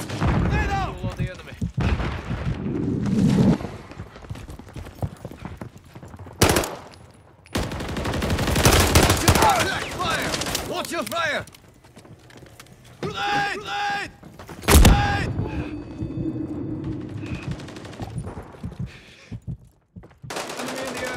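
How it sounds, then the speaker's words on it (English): Bursts of automatic rifle fire and booming explosions from a military shooter video game, loud and close, broken by gaps, with radio-style callouts heard between the volleys. "Taking effective fire."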